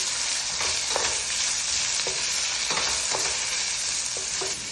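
Sliced onion stir-fried in a pan for Filipino pancit canton, a loud continuous sizzle with repeated spatula scrapes and taps across the pan.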